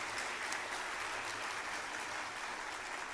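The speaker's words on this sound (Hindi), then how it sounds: "एक बार तालियां बजा के बता दो आप कितना दमदार लोग हैं" An audience at a poetry recital applauds, a dense, steady clapping that fills the whole stretch at moderate distance, with no one speaking.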